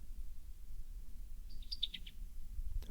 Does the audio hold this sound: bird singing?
yes